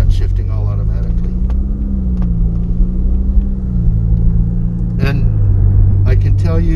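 Ferrari Roma on a road drive with its automatic gearbox shifting by itself: a loud, steady low engine rumble with the pitch stepping as gears change, heard from inside the car while people talk over it.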